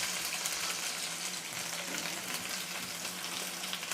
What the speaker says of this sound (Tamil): சேர்த்துட்டு எல்லாம் நல்லா வதக்கிடலாம்